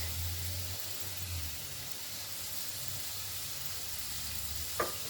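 Green pepper pieces tossed into a pot of cooking meat for a sugar bean bredie, giving a steady close sizzle and hiss of frying that carries on for several seconds, with a short clatter near the end.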